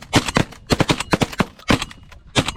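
Close, loud shotgun blasts during a pigeon hunt come in several quick clusters, sharp reports spaced across a couple of seconds.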